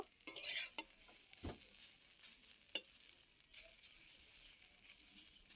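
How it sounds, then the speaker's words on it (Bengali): Bottle gourd greens are dry-roasted in a wok over low heat, giving faint scraping stirs and a light, intermittent sizzle with no one speaking. "এখানে আবারও লাউ শাকগুলো খুব ভালো করে কড়াইয়ের মধ্যে হালকা আঁচে শুকনো শুকনো করে রসটা মেরে নেব"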